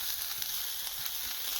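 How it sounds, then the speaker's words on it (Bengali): Chopped onions stir-fried in a pan with very little oil for a stuffed bitter gourd dish give off a steady, close, continuous sizzle with no breaks and no voices. "এখন পেঁয়াজটাকেও নেড়ে চেড়ে ভেজে নেব।"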